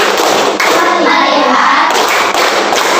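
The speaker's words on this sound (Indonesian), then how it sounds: "Nah, tepuk fokus." Classroom students doing a rhythmic focus clap together, a loud dense burst of many hands clapping in a patterned beat with brief pauses.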